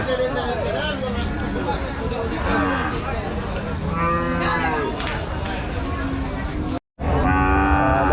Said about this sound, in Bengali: এখানে এক জোড়া খুবই সুন্দর গরু আছে ইন্ডিয়ান গরু